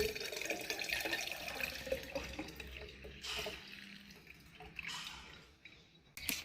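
Water splashes and trickles into a container as it is added to dilute a homemade garden pest spray, a faint, uneven running and dripping sound with a few louder splashes.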